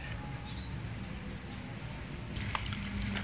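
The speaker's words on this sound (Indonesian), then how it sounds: "Sekarang kita cuci akar dengan air bersih yang mengalir." Clean running water rinses the roots of an Aglaonema Lady Valentine plant, a steady close hiss and splash that turns brighter and slightly louder partway through.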